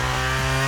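A chainsaw engine runs loudly and up close, with a buzzing, harmonic drone that shifts pitch slightly as it revs.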